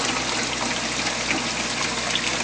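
Water pours steadily through an aquarium overflow down into the sump, a continuous close rushing and gurgling wash with no pauses.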